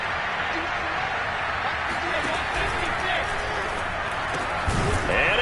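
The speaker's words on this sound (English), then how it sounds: "Listen to this crowd now." Stadium crowd roar in a Madden 22 football video game before a two-point conversion, a dense, steady wall of cheering that swells slightly near the end.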